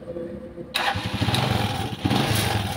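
A Rusi Macho 175 motorcycle engine turns over and catches after a moment of quiet, then settles into a steady, close, rough idle; a brief extra surge follows near the end.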